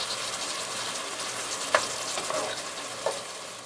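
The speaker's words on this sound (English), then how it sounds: "we're going to mix everything together with the veggies and the chicken" Butter, flour, vegetables and chicken stirred together in a pan for chicken pot pie filling, giving a soft steady sizzle with a few scraping spoon knocks, close and moderately quiet.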